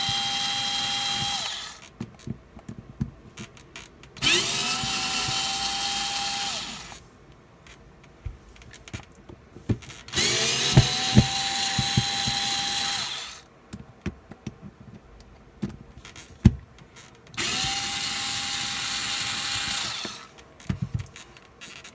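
A power tool's gear housing being taken apart, with repeated bursts of a drill or electric screwdriver backing out four screws, each whirring run lasting a few seconds, separated by quieter handling clicks.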